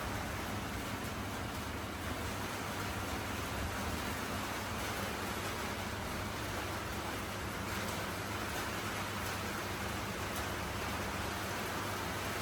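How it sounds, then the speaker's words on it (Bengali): Steady rain falls outside a home, a soft, even hiss that continues unbroken throughout with no voices. "এই বৃষ্টির আওয়াজ আর মাটির গন্ধ, ওহ কি যে ভালো লাগে কি বলবো।"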